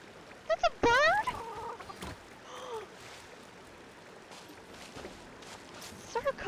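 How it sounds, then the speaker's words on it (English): A small bird creature in Genshin Impact gives sharp chirping, clucking calls in bursts, loudest early on and again at the end, over soft background game sounds and footsteps. "That's a bird?!"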